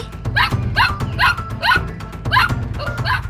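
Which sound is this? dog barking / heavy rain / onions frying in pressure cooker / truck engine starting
dog barking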